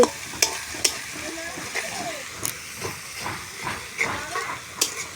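Chicken masala sizzles and hisses on a clay stove, with steady frying under repeated spoon scrapes and clacks while stirring, close by and moderately quiet.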